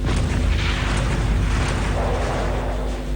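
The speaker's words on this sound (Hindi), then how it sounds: "फिर जब तीसरे हमले की तारीख करीब आई तो बेस कैंप से तोप का मुंह खोल दिया गया" Artillery cannon fire from a base camp during the Siachen war: a loud, dense, continuous roar of booming blasts that fills the whole short stretch.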